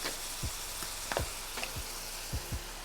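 A tablespoon of garlic sizzles in a hot pan, a soft continuous frying hiss broken by several low knocks and clinks of a utensil against the pan.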